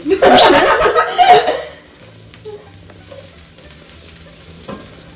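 Ginger and garlic hit hot olive oil in a pan for fried rice, giving a loud, close sizzle and crackle for about a second and a half that then drops to a faint background simmer, with a light chuckle mixed in.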